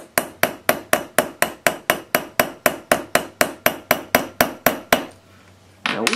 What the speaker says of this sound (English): you can wiggle it like this when you hammer it